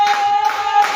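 A church congregation claps in acclamation during a combat prayer service, a dense, steady wash of many hands under a sustained tone, with no gaps.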